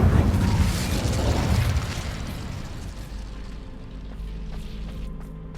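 An Incendio fire spell cast in Hogwarts Legacy, inside the Fastidio dungeon, bursts out as a loud fiery whoosh at the start, then trails off into a lower, sustained rumble.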